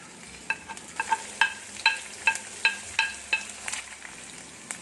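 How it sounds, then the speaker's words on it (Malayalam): Ginger paste, garlic and green chillies frying in a pan under a close, steady sizzle, stirred with a spoon in an even rhythm of about ten quick scraping strokes that fades toward the end. "ഇനി ഏകദേശം ഒന്ന് വെളുത്തുള്ളി ഒന്ന് മൂത്ത് വരുമ്പോൾ നമുക്ക് ഇഞ്ചി അരച്ചത് ചേർത്ത് കൊടുക്കണം അതിലേക്ക്"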